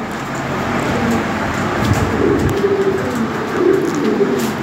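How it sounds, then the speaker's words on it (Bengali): Lahori Sirazi pigeons coo softly in a cage, their low, repeated calls rising over a steady background hiss. "ভালো কোয়ালিটি কবুতর।"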